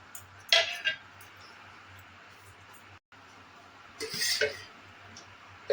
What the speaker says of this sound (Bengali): এখানে একটু হালকা নাড়াচাড়া করে নেব